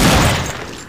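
Loud burst of gunfire from the mobile shooter game Gun Strike on Android, one dense volley at the start that tails off across a single second, with no voices.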